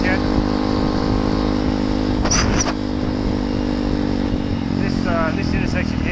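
A motorcycle engine runs cold at about 17 degrees with the choke still partly on, a loud, steady drone throughout with brief chirps and squeaks over it while riding.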